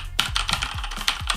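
Brisk keystrokes on an MKPLUS Slayer M3 mechanical keyboard, close and crisp, about half a dozen clacky presses in an uneven rhythm with nothing else around them.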